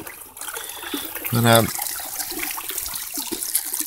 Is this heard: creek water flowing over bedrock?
yes